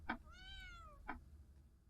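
A cat meows in a yandere horror video game: one long, clear, drawn-out meow at close range, framed by short sharp clicks before and after over a low rumbling background.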